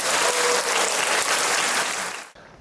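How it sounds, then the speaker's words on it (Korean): An indoor audience at a training lecture on integrated care gives warm applause to welcome a speaker, a dense even wash of clapping that fades and cuts off abruptly near the end. "2시간 동안 강의 주신 경상남도 통합도로공과 백종철 과장님을 큰 박수로 맞이해 주시기 바랍니다"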